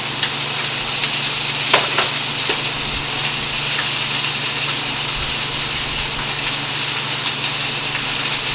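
Beef cooking in a pot at the start of a tomato sauce, a steady loud sizzle with a low constant hum beneath and a few faint clinks, no talking.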